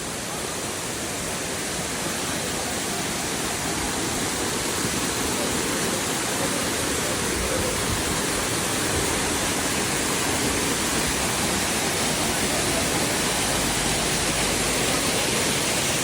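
Icy cold spring water pouring down from above near a roadside stop between Kahramanmaraş springs, a dense, steady rushing splash like a small waterfall, loud and unbroken throughout with no talking.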